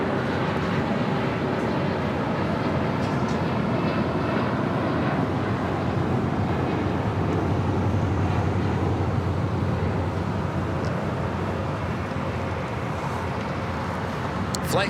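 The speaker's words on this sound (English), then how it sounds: "Flight taking off, that was United Express SkyWest Flight 5786 heading to Aspen in a CRJ 700" A SkyWest CRJ 700 regional jet taking off at LAX, a sustained broad roar of jet engines holding steady at a distance with wind buffeting the microphone.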